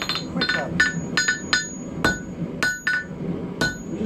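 A blacksmith's hammer rings on a steel icicle over the horn of an anvil. The strikes are sharp and metallic, come in an irregular rhythm of about a dozen blows, sound close, and are heard with no talking.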